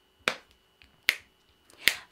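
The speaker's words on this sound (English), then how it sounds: "I'm gonna keep a little rhythm with my snapping" Finger snaps keep a song's rhythm, three crisp, evenly spaced snaps close and clear against near silence.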